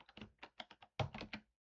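Rapid keystrokes on a computer keyboard while code is entered into a Python file, a run of crisp close taps in short uneven bursts with a brief pause before a louder final cluster.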